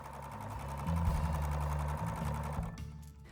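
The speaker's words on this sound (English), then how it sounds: "I have a light blue thread for the top for stitching along the puzzle edge" Sewing machine stitching light blue top thread along the edge of a Halloween pumpkin puzzle quilt piece, a close, fast mechanical whir that speeds up briefly then stops near the end.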